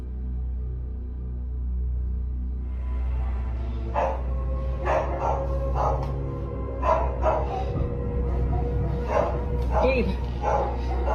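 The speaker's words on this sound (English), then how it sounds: "woke up to the sound of her dogs barking intensely without stopping" Several dogs bark and yip in repeated bursts, fairly close, over a low steady hum, with some voices mixed in.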